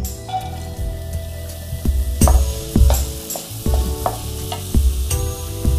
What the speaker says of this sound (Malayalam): നെയ്യിൽ ക്യാരറ്റ് ചെറുതാക്കി അരിഞ്ഞത് ഇട്ടിരിക്കുകയാണ്.